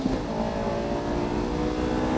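A race car accelerating hard at Fuji Speedway, with a loud, steady engine roar of layered harmonics held close throughout, no voices over it.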